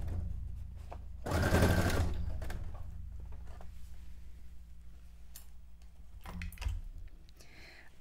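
A sewing machine stitches a cone-shaped cape decorated as a miniature townscape, with one rapid burst of stitching lasting just under a second, then a quieter pause and a second short burst.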